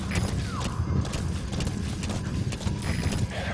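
Horse hooves clip-clop in a steady rapid rhythm during a ride in the video game Metal Gear Solid V: The Phantom Pain, loud and close over low ambient game sound.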